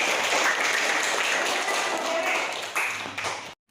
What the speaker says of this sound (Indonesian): tepuk tangan untuk Asmi.